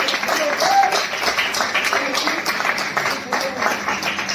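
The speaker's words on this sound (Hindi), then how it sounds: "जबरदस्त तालियां, तालियों में कमी नहीं होनी चाहिए।" Applause during a dietician-led product training session: dense, steady clapping from a group, with voices mixed in throughout.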